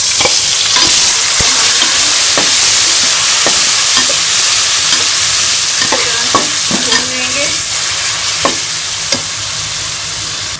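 Marinated chicken sizzles loudly in masala in a pan with golden garlic, a steady, close frying hiss broken by scraping stirs and clicks of a utensil.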